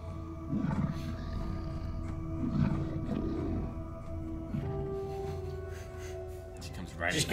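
A large creature in the animated series Tales of the Jedi roars repeatedly in throaty bursts, with a sustained tone and music underneath and people talking over it.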